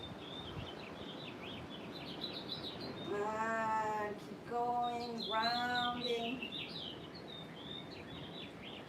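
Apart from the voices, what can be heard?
birds chirping outdoors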